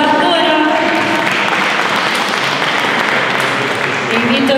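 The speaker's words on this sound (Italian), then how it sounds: "E un applauso ancora." An audience at the Premio Solidarietà Italiana ceremony in Rome claps in a sustained, dense burst of applause, loud and even, with a voice audible at the start and fading near the end.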